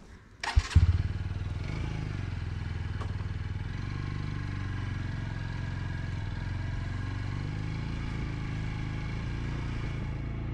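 A motorcycle engine cranks over and fires into a steady idle, starting close by after a brief starter whirr, then settling into a continuous loud rumble.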